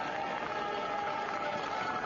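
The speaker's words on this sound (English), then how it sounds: "he gets generous applause, and he deserves it" A biathlon crowd in Lahti, Finland, applauds as an athlete finishes the men's race, giving a steady, distant wash of clapping and cheering with no break.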